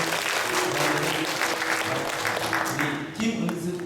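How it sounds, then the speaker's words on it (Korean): A church congregation claps in welcome during a Sunday service, a fairly soft, steady patter of many hands lasting a few seconds, with murmured voices underneath. "환영해주세요. 박수."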